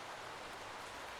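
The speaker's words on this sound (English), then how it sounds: "the sound of raindrops" Steady patter of raindrops falling, a soft continuous hiss of rain with no voices, quiet and even throughout.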